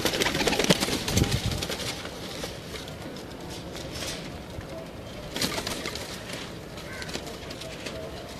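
Blue pigeons coo softly at a loft, with low murmuring calls and some wing flutters and shuffling, while people talk nearby.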